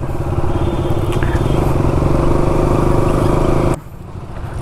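A motorcycle riding along a road in Karnataka, its engine a loud steady drone with wind rush throughout, then dropping off abruptly near the end.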